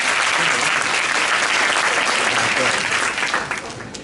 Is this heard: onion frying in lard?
no